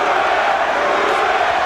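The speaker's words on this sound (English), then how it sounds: "Crowd enjoying this one." An arena crowd roars during the Evander Holyfield vs Lennox Lewis heavyweight rematch, a dense continuous wash of cheering and noise filling the hall.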